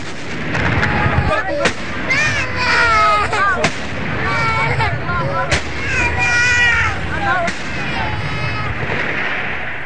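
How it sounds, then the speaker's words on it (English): Heavy gunfire pounds through a street battle in Sirte, Libya, with sharp repeated bangs and booms over constant crackle, while close, distressed voices and cries rise and fall throughout. "As the guns pounded"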